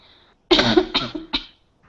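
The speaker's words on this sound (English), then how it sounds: "I have a terrible cough today" A quick run of three harsh, close coughs after a brief silence, the first the longest and the last short and sharp.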